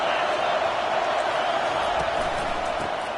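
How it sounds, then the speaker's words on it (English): A stadium crowd at a football game gives off a steady, dense roar of cheering and noise, sustained and fairly distant-sounding, with no clear peaks or breaks. "Listen to the crowd energy here in the early going."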